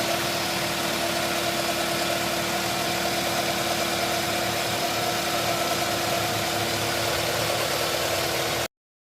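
A car engine idles steadily during a spark plug wire check, its continuous mid-low hum and faint vibration running evenly and fairly loud throughout without any talk.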